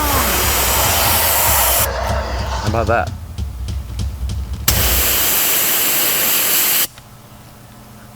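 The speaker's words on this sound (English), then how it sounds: "we will fire this can of bear spray and see what happens" A can of bear spray fires in a loud, forceful hissing blast outdoors, pausing briefly before a second long burst that cuts off abruptly; someone speaks briefly between the bursts.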